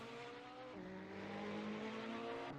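A Ferrari GT3 car in a racing video game loses its rear at Mid-Ohio and slides off track, a steady droning engine note with tones that slide downward as the car spins away, moderately loud and continuous.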